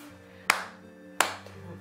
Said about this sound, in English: Let's give that a clap and a half.